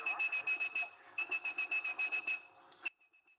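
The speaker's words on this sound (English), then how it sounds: "he was able to whistle at a perfect pitch." A steady, high-pitched human whistle tone pulses in a rapid series of short bursts, pauses briefly, then continues before stopping, clear and close.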